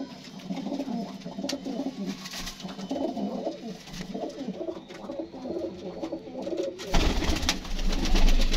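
Pigeons coo steadily in a loft, with soft, overlapping, rolling calls close by, plus occasional wing flutters and a louder burst of rustling near the end.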